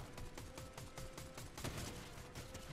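Rapid bursts of gunfire from the video game Fortnite crackle in a quick repeating rhythm, faint and fairly distant, with no talking over them.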